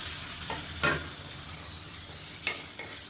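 Tomatoes sautéing in hot oil in a pan for chicken biryani, a steady faint sizzle with a few brief stirring scrapes, no voices.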